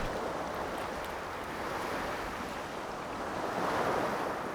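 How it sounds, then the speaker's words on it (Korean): Waves wash steadily onto the seashore of a Jeju Island fishing village, a loud continuous surf roar with gentle swells and wind, and no voices. "하루에도 몇 차례 바닷물이 드나드는 마을 앞 해안가"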